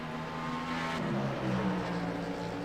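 A Cadillac prototype race car at Sebring in iRacing drones past with a steady engine note that shifts pitch partway through as it goes by, heard moderately loud with no talk over it.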